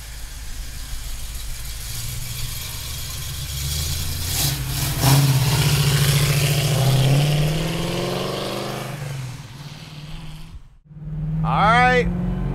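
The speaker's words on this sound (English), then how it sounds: "Listen to that exhaust. It sounds awesome." A loud, deep engine of a black 1967 Ford Mustang S-code rumbles steadily with a throaty exhaust, rising in pitch as it revs, while someone talks over it.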